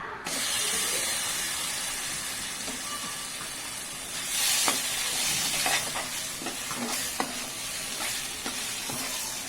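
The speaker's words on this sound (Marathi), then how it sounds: "छान मिक्स करून घेऊया मसाला मस्त भाजून झालाय" Onion and ginger-garlic paste masala frying and being stirred for a chicken masala, with a steady close sizzle and hiss broken by repeated scraping strokes of a spoon against the pan.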